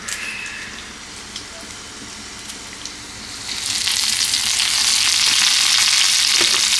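Cashews and curry leaves frying in hot oil in a pan, a crackling sizzle that swells louder and denser halfway through and keeps going steadily, close by.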